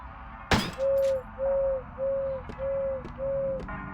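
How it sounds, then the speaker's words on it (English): An animatronic owl shaped like a bell in the video game Crow Country hoots five times in an even rhythm after a sharp knock, with each hoot a clear, sustained, mid-pitched tone and short gaps between, and no speech. "Animatronic bird. He's hollering and hooting and hollering."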